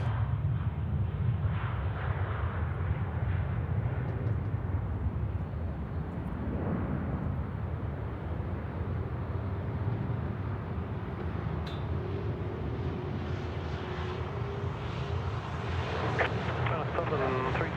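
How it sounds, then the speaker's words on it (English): A China Airlines Airbus A350-900 takes off with a sustained, broad jet roar at a distance that holds steady throughout, while a person talks over it. "we've got China Airlines in from Tapai, the A350 9er. Just rotating now"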